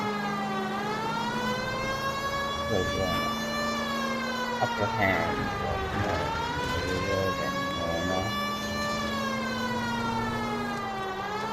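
A police car siren in L.A. Noire wails in long, slow rising and falling sweeps, loud and continuous, while someone talks over it and other brief sounds cut in midway.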